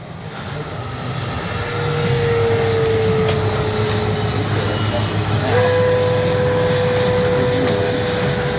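An E-flite 80mm Habu XS RC ducted-fan jet flies overhead with a steady, loud turbine-like whine that holds for the whole stretch and shifts pitch slightly about halfway through, with outdoor wind noise underneath.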